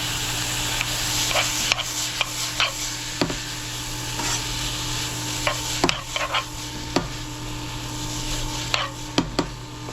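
Chinese-style shredded potatoes stir-fry in a hot pan with chicken stock added, a steady loud sizzle broken by frequent sharp clacks of a utensil stirring and scraping at irregular intervals.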